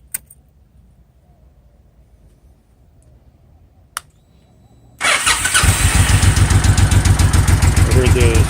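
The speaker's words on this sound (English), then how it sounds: "I heard the starter engage and then disengage." A Honda VTX 1800 motorcycle sits near-silent apart from a couple of sharp clicks, then the starter engages and the V-twin fires into a loud, steady idle close by.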